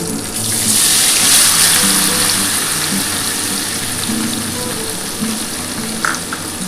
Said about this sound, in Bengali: এবার হালকা করে পনিরগুলো ভেজে নিচ্ছি